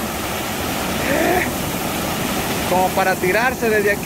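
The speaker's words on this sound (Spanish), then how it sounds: "Miren ese borbollón de agua." Water gushes up from a natural spring into a shallow pool in a rushing, continuous roar that stays up close, while someone speaks over it in Spanish.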